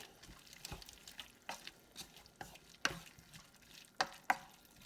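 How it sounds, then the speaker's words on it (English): A sesame ginger stir fry being stirred in a pan, heard as faint, irregular spatula taps and scrapes with a light sizzle underneath, fairly quiet overall. "let's turn this up to medium and stir"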